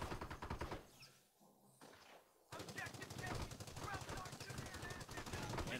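Sustained machine gun bursts in Company of Heroes battle at St. Mere Dumont, rapid rhythmic rattling fire that drops out briefly then resumes loud and continuous with overlapping gunfire.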